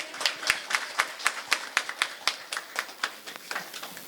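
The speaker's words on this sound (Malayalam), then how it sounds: "ഒരു ഗംഭീര കൈയടി പോരട്ടെ." Rhythmic handclapping at an area unit's 2024-2025 inaugural function, a crisp, evenly spaced beat of claps that is moderately close and repeats for a few seconds before softening.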